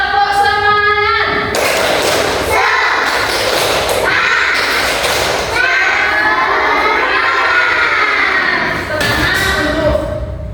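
Schoolchildren in a classroom shout a loud group response to a spirit-clap chant, their voices overlapping in repeated bursts that fill the room with a dense crowd-like din.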